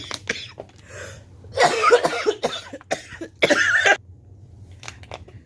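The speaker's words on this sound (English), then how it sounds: "I can't cough during the next video." A fit of coughing with several rough, throaty bursts of varying strength, close to the listener, separated by short quiet gaps.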